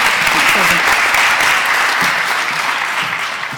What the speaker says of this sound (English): give her a quick introductory round of applause